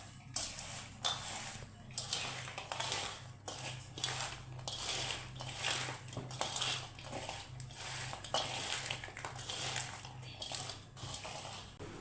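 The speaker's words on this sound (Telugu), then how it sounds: "ముక్కకంతా కారం మసాలాలు పట్టుకునేటట్టు బాగా కలుపుకోవాలి" Mutton pickle pieces being mixed by hand with chili powder and spices, giving steady close wet squishing and scraping with repeated rhythmic pulses over a low constant hum.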